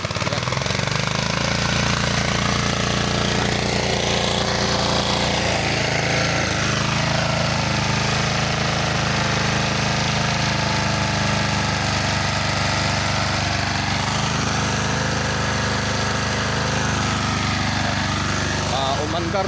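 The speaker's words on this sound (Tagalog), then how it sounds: "Kaya gumamit tayo ng water pump" A water pump engine drains a fishpond outdoors with a loud, steady drone that runs without a break from start to finish, and voices come and go beneath it.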